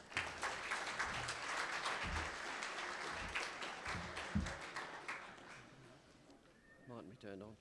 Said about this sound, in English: Please, a warm round of applause for Col.